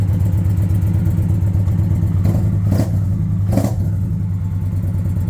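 Indian motorcycle engine idling close by, a steady loud low rumble with a couple of brief faint blips over it.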